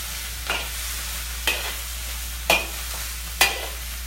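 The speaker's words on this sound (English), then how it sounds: "And then we start stir frying." Vegetables are stir-fried in a wok with sherry and white pepper, four separate scraping tosses about a second apart over a low steady sizzle.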